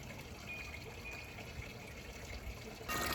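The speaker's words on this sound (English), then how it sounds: "There's my outside my patio door, my water fountain going, an old-fashioned pump, a kettle." An old-fashioned pump-and-kettle style patio water fountain trickles softly outdoors, with faint continuous splashing that turns into a louder gush near the end.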